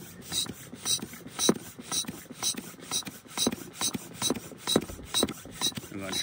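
A hand pump inflating the air chamber of a Super All-Pro Passer robotic quarterback, with a steady rhythm of about a dozen rasping, ratcheting strokes, close and with no voices.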